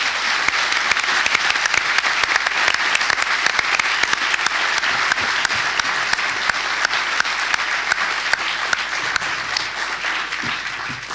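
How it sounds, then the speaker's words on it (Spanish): A large audience at a book launch applauds the young authors in a steady, dense wash of clapping that holds for the whole stretch at even, fairly loud strength. "le demos un aplauso a nuestros jóvenes autores"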